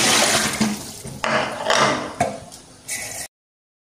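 Tap water rushes over peeled bell peppers in a kitchen, coming in several loud gushing bursts broken by short pauses before stopping abruptly.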